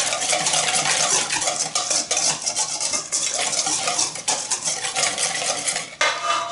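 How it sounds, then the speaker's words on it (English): A whisk beats a deviled crab mixture laced with Tabasco in a bowl, a fast continuous scraping and clinking of metal against the bowl, loud and close, slowing briefly near the end. "We'll whisk this all together."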